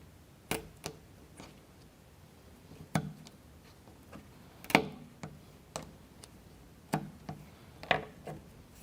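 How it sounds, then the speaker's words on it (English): Sharp snips cut toothpicks in two while a model of a U-9 Grand Prix car and its V8 engine is put together, leaving about a dozen crisp, irregular clicks, close and quiet with no speech. "Cut the toothpicks in two"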